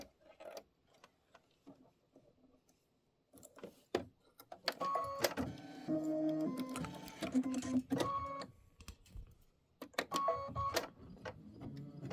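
An embroidery sewing machine stitches a tiling scene, a rapid mechanical whirring and stepping pattern after a near-silent start with light clicks, then starting and stopping in close, moderately loud bursts with no talking.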